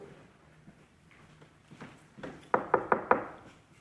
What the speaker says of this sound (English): Soon there was a knock on the laundry room door.